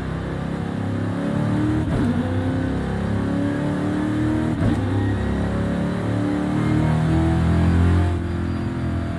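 A tuned BMW M3 GTS E92 in Forza Horizon 5 accelerating hard, its engine roaring loudly and steadily with brief dips at gear shifts, up close and alone.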